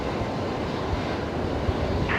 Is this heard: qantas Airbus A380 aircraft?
yes